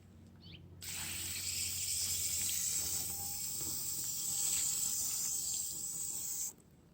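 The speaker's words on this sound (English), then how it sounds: "Now I'm going to water it." Water pours steadily onto soil sown with bok choy seeds, a bright continuous hiss starting abruptly, running about six seconds close to the microphone, then cutting off.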